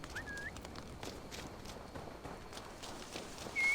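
Horse hooves clip-clop at a quick, even pace on hard ground in the video game Assassin's Creed Valhalla, fairly quiet, with a couple of faint high tones overhead.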